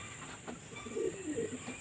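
Pet pigeons coo softly at home, a few low rolling coos over a steady high hiss, faint and somewhat distant.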